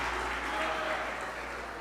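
A church congregation applauds during a worship service, with steady, dense clapping from many hands that fills the space evenly throughout.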